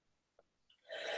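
A single sneeze bursts out suddenly and fairly close at a mock election candidate forum, preceded by a faint intake of breath in an otherwise quiet room.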